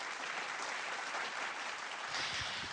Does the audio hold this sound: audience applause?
yes